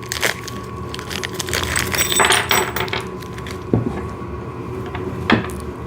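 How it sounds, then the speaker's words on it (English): A small parts envelope for a VEVOR snow shovel, holding bolts and an Allen key, is torn open by hand, giving close crinkling, rustling and sharp tearing crackles in short irregular bursts with no speech. "Let me just get this envelope open"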